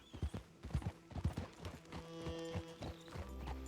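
Horse hooves clip-clopping on a road in the Red Dead Redemption 2 video game, a quick run of close, distinct hoof strikes that slows into a few spaced steps over a faint background hum.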